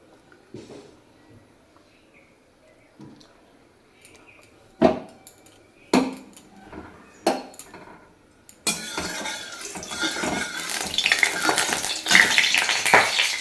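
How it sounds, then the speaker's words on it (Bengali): Potatoes fry in mustard oil in a wok: a few sharp utensil clinks and scrapes come first, then a loud, steady, broadband sizzle takes over for the last several seconds. "আলুগুলোকে ভেজে নেব আগে।"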